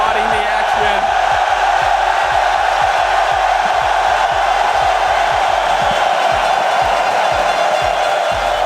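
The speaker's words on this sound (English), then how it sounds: "I've not seen such a one-sided crowd" Packed arena crowd at the 2023 Rocket League World Championship in Düsseldorf, a loud sustained roar of cheering and whooping with rhythmic stomping or clapping beats underneath.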